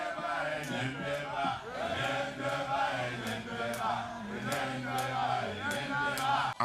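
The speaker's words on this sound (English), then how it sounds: "Addressing the enthusiastic crowd" Enthusiastic crowd at a political rally for Governor Soludo in the Nnewi South local government area, a steady roar of cheering and chanting voices filling the space with sharp accents sprinkled throughout.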